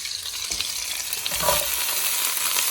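Broccoli sizzles loudly in a hot frying pan shared with chicken, a continuous hiss of frying with soft scraping as it is stirred, close and without voices.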